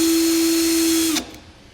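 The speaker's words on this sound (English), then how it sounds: "use a small drill bit just to kind of make some marks in the bed of our truck" A small power drill with a small bit marks the steel bed of a pickup truck, a steady loud whine lasting about a second before it winds down and stops.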